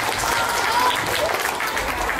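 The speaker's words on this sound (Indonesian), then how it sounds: "Tepuk tangannya mana?" Steady applause from an audience fills a mosque's Isra Miraj celebration and Quran school graduation, a dense clapping that runs under a voice.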